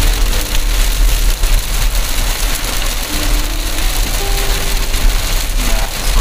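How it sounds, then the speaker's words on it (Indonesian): Heavy rain pours down while driving into the town of Wonogiri, a loud dense continuous hiss and drumming over a low engine and road rumble, with no talking. "Kita diguyur hujan semakin lebat"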